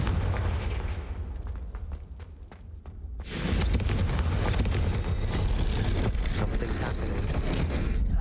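Confringo fire spell from Hogwarts Legacy bursting into a loud, near explosive roar that stays sustained and dense after a quieter, crackling lead-in.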